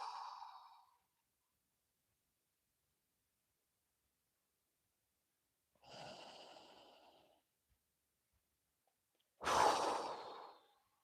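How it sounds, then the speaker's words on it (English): Deep breaths drawn in and pushed out through the nose during a relaxed morning routine: three separate breath sounds with long silences between them, the last being a sharp, loud exhale close to the mic, with no talking. "Now I'm breathing so deep that my nostrils are actually sucking"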